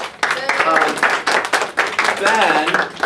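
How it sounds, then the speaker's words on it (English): An audience applauding, a dense burst of many hands clapping across the whole stretch, loud and close, with voices mixed in. "Claps for Ben"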